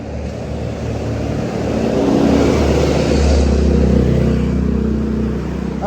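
A car drives past on a street in Phuket, Thailand, its engine noise swelling to a peak mid-pass and then fading, with no talk.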